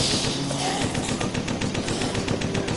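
Rapid bursts of gunfire in a zombie-ambush arcade video game, a dense, loud, steady rattle like a machine gun firing continuously.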